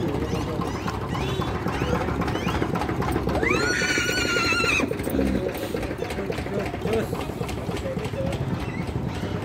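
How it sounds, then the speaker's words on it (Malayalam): A black foal at the Muktsar horse fair gives a high, wavering neigh lasting about a second, heard through a busy, noisy crowd with steady talk and engine rumble all around. "നല്ല ബ്ലാക്ക് കുതിരക്കുട്ടിട്ടോ"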